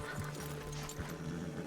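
Horse hooves clop close by in Red Dead Redemption 2, two or three heavy steps in a short burst with a faint whinny-like breathy tone under them.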